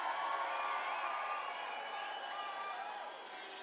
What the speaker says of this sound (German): Applaus für euch!